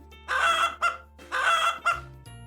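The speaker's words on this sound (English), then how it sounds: "Chicken." A chicken clucks and calls in two loud bursts, each a long squawk followed by a short cluck, then quiet.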